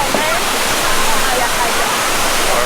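Waterfall in Doi Inthanon National Park, Thailand, a loud, steady, close rushing roar of falling water that fills the whole clip without a break.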